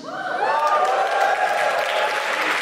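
A live audience applauding and cheering at a comedy podcast event, a dense burst of clapping with whoops that builds quickly and holds steady, filling the room.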